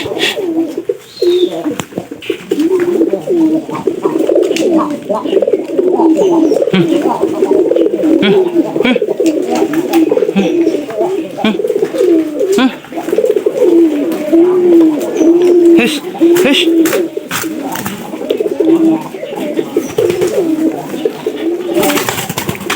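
Caged pigeons coo continuously in rolling low phrases close by, while people talk over them and handling noises and shuffling fill the background.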